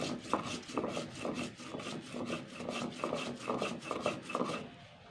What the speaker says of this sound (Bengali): এটা আমি এবার বেটে নেবো ভালো করে